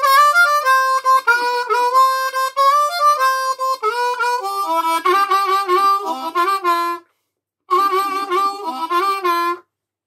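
Harmonica phrases over the middle four bars of a blues, loud and close, with bent sustained notes in a steady rhythm and a brief pause before a final phrase.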